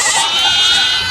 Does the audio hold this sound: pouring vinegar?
no